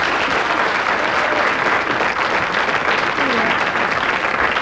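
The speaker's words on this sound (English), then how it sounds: "Give her a round of applause." Steady, dense studio audience applause at a televised game show, loud and continuous throughout with no pause.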